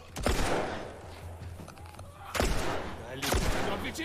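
Gunfire in the video game Sabaku The Last of Us, with a few sharp loud shots spaced across the clip over a steady low hum and background game noise, alongside a player's excited shouting.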